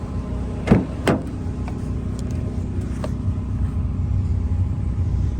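A 2016 Mitsubishi Lancer engine idles with a steady low rumble, broken early by a couple of sharp clicks or knocks nearby.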